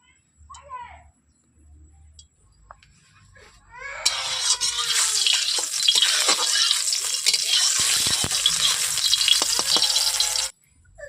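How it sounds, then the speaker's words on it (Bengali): Dried chilli drops into hot oil in a wok. After a few quiet clinks, a loud, crackling sizzle bursts in and spits steadily for about six seconds before cutting off abruptly. "কড়াইয়ের মধ্যে তেল দিয়েছি তেলটাকে গরম করে নিচ্ছি ভালো করে একটা লঙ্কা দিয়েছি শুকনো লঙ্কা"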